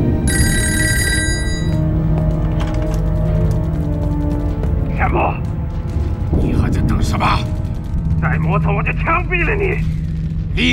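A telephone bell rings loudly for about a second at a Japanese army company headquarters in a kung fu war film, then gives way to a dense, loud mix of other sounds.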